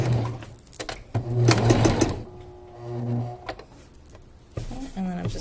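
A sewing machine runs in short stitching bursts along a crotch seam, with pauses in between and someone talking over and between the runs.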